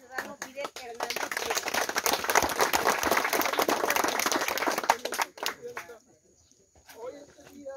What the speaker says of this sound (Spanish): Fuerte el aplauso para darle el uso de la voz al ciudadano Fidel Hernández.